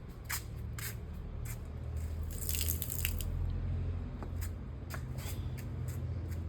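Water is sprinkled by hand onto a doorstep on a foggy early morning, heard as a string of short, spattering splashes nearby over a steady outdoor hum.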